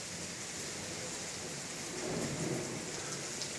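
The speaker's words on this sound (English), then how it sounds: "it's raining like cats and dogs out there." Steady heavy rain pours down, a dense continuous hiss that swells slightly louder partway through, with no voices.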